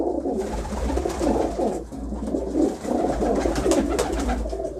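A breeder pair of pigeons coos in repeated soft, throaty rolling calls, close and steady over a low background hum, with no voices.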